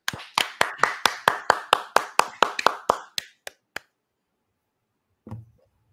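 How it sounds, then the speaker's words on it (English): People in a talk-show studio clap their hands for guest Matt McChesney. A dozen crisp, evenly spaced claps come close and loud, then slow and thin out to a few last claps before a brief voice after a pause. "Clap it up for Matt."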